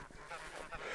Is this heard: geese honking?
yes